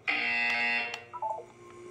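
A sustained electronic buzzer tone in the Portal 2 video game sounds loudly for about three quarters of a second, then a few softer, higher beeping tones follow and fade.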